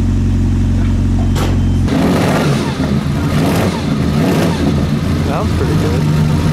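A black Ferrari at the Mille Miglia road race revs hard, its engine a loud, steady roar at first that gives way to a broader, rougher roar as the car passes close by, with voices talking over it.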